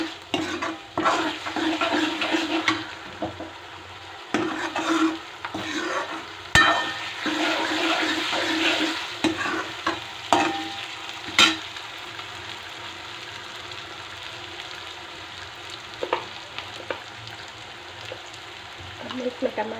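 Onions frying in a pan with garlic, ginger and green chili paste being stirred in for a vegetarian thali, steady sizzling with repeated scraping stirs throughout.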